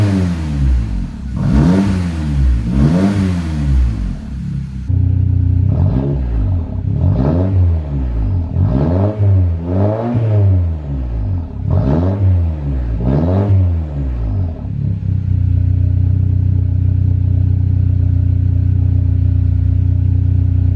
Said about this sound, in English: We're just gonna rev it a little bit.